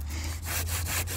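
A hand saw cuts through the small trunk of an invasive tree with corky, almost cork-like bark, in steady back-and-forth strokes, close and fairly loud, with no talking.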